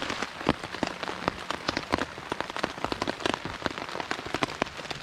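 Rain falling at a riverside campsite, a dense patter of close drops striking a surface in irregular bursts, with no voices.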